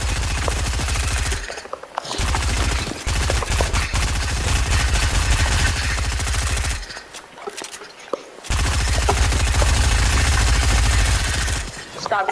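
Rapid submachine-gun fire in a Fortnite-style shooter fight involving Midas, dense sustained bursts with brief gaps, loud and close, mixed with game music and effects.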